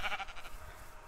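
A Minecraft sheep gives one short bleat, clear at first and then fading into a hiss of background noise.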